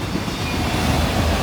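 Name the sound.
CSX unit auto train rail cars passing at night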